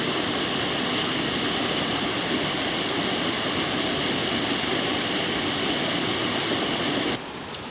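The Glen River in County Down rushes along in a loud, steady broadband roar of flowing water that holds without a break and then drops abruptly near the end.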